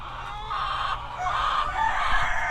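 Backyard chickens that have just been fed and watered give nearby clucks and calls, with a brief crow-like note, over a faint steady background hum.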